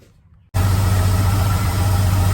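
A car engine catches and runs steadily after an alternator replacement, a loud, even idle rumble with a strong low hum that starts abruptly after a short quiet moment and holds without talk.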